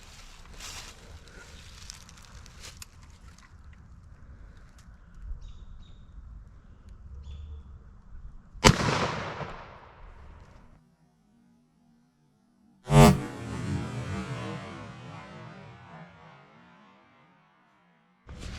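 Two sharp, loud 300 Blackout rifle shots with 180 grain Hornady AMAX rounds are fired into ballistic gel at an outdoor range, each crack followed by a decaying echo, over quiet outdoor background.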